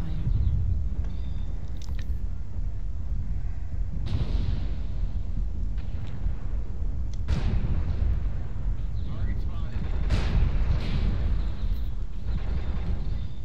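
Explosions from incoming missiles in the mech combat game MechWarrior Online, a series of loud booming blasts landing at intervals over a constant rumbling battle din.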